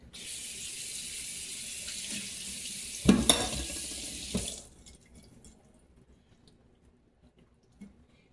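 Tap water runs into a kitchen sink to rinse sockeye salmon. A steady, close hiss of flowing water carries a few splashes and knocks, then the tap shuts off and only faint background sound remains.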